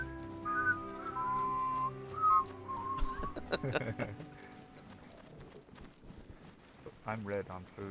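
A person whistling a short, bright melodic tune, clear and close, with people talking and game sounds around it as the whistling gives way to chatter.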